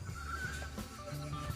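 A horse whinnies with a high wavering neigh over a steady loud background hum, with faint hoof-like clops toward the end.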